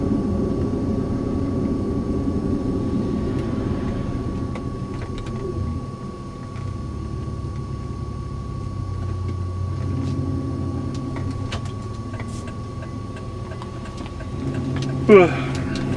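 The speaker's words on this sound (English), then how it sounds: "as you can see, the motor and stuff's working fine" A 1999 Jeep Grand Cherokee Limited engine idles with a steady low hum throughout, while someone talks over it.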